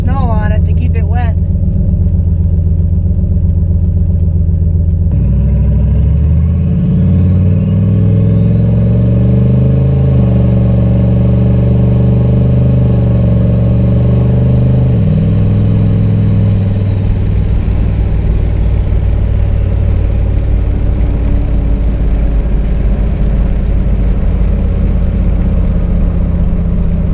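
Turbocharged Ford Ranger with a rebuilt 4L80E transmission driven at light partial throttle, its engine droning loud and close as revs climb and shift through steady stages, with a faint rising whine above and talking over it.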